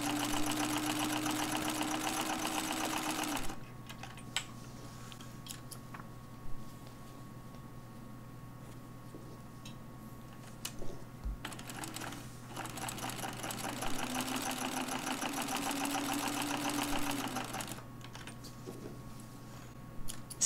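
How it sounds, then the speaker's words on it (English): A sewing machine stay stitches along the seam lines of a muslin torso fitting shell, running in two steady, close whirring stretches separated by a quiet pause with small clicks and handling noises. "Stay stitching around the neck curves."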